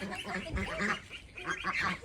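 Ducks on a small farm in Maryland quack in quick, overlapping bursts, fairly close and loud, with brief pauses between calls.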